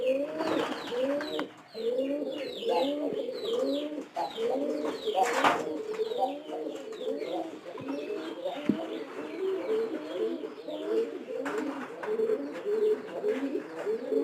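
Pigeons in a loft coo in continuous overlapping rolls, close and full, with occasional flutters and chirps and some talk in the background.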